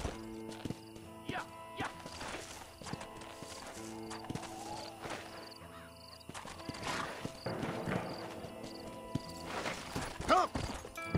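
Horse hooves clip-clop steadily in the Red Dead Redemption video game, a rhythmic walking gait mixed with game music, an occasional whinny and brief speech.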